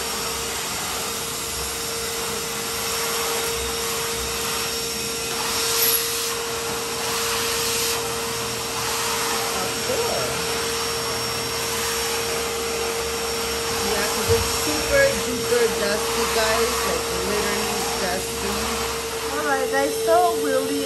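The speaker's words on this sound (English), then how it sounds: "So guys, this is our new vacuum cleaner that we bought at Costco earlier." A new vacuum cleaner bought from Costco, running in a home with a steady, loud whine and hum that lasts throughout, as people talk over it intermittently.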